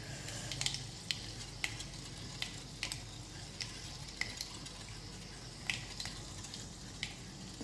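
Garlic frying in hot oil for a tadka to temper dal, a steady soft sizzle with scattered faint crackles and ticks, quiet and close, without any voices.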